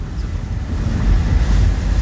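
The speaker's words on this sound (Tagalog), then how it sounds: "Dagat na to, Sam." Sea waves and strong wind on a typhoon-battered shore, a loud continuous roar with wind buffeting the microphone and a slowly building surge of surf.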